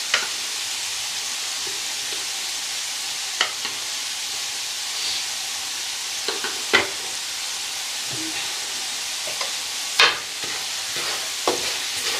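Cumin seeds fry in a pot, making a constant soft sizzling hiss broken by scattered sharp pops and crackles, with occasional stirring clatter.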